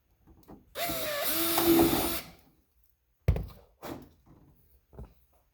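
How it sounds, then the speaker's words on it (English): A power drill whirs for about a second and a half, boring a hole while installing a drag wing on an RC Corvette body, followed by several sharp knocks and thunks as parts are handled. "I'm going to drill that one there next."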